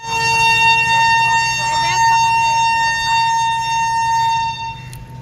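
A long, steady vehicle horn blares loudly for about five seconds during a journey to Delhi, holding one unbroken tone before it cuts off near the end.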